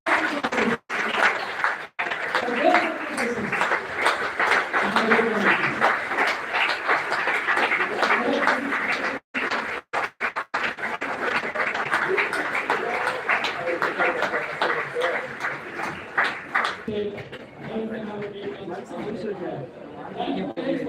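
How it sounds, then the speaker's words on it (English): Audience in a hall applauds steadily for about sixteen seconds, dense clapping mixed with loud crowd chatter and voices, then tapering into quieter talk near the end. "Let's have a great round of applause for your parents."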